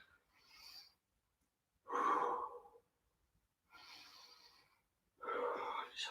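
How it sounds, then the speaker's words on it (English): Slow deep breaths during a stretching exercise, four separate inhales and exhales with quiet pauses between them, soft and close with no talk. "Nice deep breaths."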